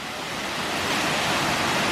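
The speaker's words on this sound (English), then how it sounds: "So this is the waterfall Olympus at the start of the trail." A waterfall at the start of the Mount Olympus hiking trail in Greece roars as a constant broad rushing wash, loud and close, alone without voices.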